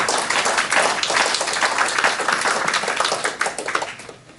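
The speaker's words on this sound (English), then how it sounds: "So a big round of applause to Jon." Applause from the audience at a Founder's Friday business presentation, a dense steady wash of many hands clapping that carries loud and unbroken, then begins to taper toward the end.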